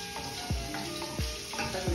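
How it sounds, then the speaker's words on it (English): A cube of butter melts into a sauce in a pan, a soft sizzle under a few rhythmic spatula strokes that sweep and scrape at regular intervals, close and fairly quiet. "Mix it well."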